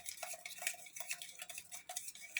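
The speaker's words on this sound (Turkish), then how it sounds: "Koyduğumuz kahve, şeker ve suyu karıştırıyoruz." A spoon stirs Turkish coffee, sugar and water in a small pot, with soft repeated scraping and light metallic clinks in a quick, uneven rhythm, faint and close with no talking.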